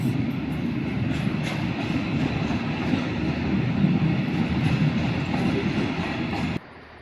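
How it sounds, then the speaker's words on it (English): Freight train loaded with logs rolling through Carlisle station, a continuous loud rumble with wheel clatter on the rails that cuts off abruptly near the end. "There's a big train full of logs on."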